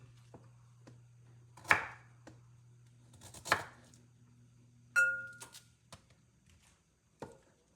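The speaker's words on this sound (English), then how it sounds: "Slicing them in halves so that it cooks easily." A knife slices Brussels sprouts into halves on a cutting board, giving several sharp, separate chopping thuds at irregular intervals against a low steady hum, with a light clink in between.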